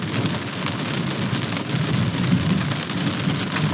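Steady, dense rain drums on a camper during a big hailstorm in the Black Hills, with thunder rumbling low beneath the continuous close downpour; no voices.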